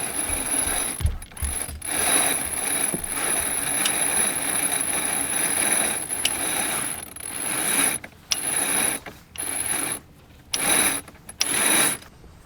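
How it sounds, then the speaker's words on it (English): Rope pulled through a pulley on a sailboat to unsock a gennaker in near-calm wind, giving repeated ratcheting, rattling runs broken by short pauses, close and fairly loud with no talking. "As you can see, I pull downward on the pulley. It unsocks, pull this way, it resocks."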